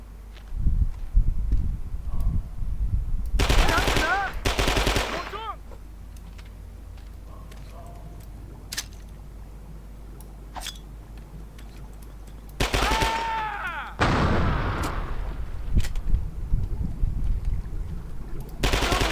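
PPSh submachine gun fire in the video game Men of Valor, in the Cu Chi tunnels, two loud bursts of rapid automatic fire separated by a quiet stretch with faint footsteps and shuffling.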